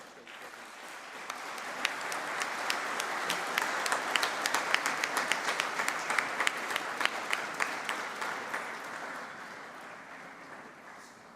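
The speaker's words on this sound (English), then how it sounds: "A round of applause, ladies and gentlemen." A conference hall audience gives a round of applause after the United Nations Secretary-General is introduced, many hands clapping steadily, swelling and then tapering off, heard clearly with no talk.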